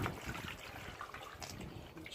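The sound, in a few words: water tipped out of a gold prospecting pan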